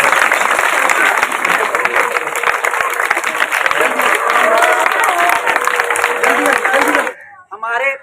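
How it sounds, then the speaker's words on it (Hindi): Loud, dense audience applause and cheering at a magic show, sustained for about seven seconds before cutting off abruptly, followed by a brief voice. "जोर से फिर तालियां लगाएं।"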